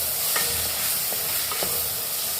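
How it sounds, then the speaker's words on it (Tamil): A spoon stirs salt, sambar powder and turmeric into tomatoes cooking in a pan, with a steady dense sizzle throughout and a few faint scraping taps, close and continuous, no talk. "கொஞ்சமாக சால்ட்டு, கொஞ்சம் சாம்பார் பொடி, கொஞ்சம் மஞ்சள் பொடி எல்லாம் போட்டு மிக்ஸ் பண்ணிடலாம்."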